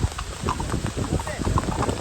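Rhythmic hoof clip-clops from a horse on a hard surface in Matheran during the monsoon, mixed into busy crowd chatter and street noise near a market.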